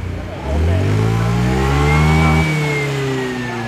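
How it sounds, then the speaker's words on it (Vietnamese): The engine of a Honda Air Blade 125 scooter revs up sharply, holds a loud climbing whine for a couple of seconds, then eases back, heard close with a steady engine hum throughout. "chạy máy sẽ lên cho anh em nghe tiếng máy đâu."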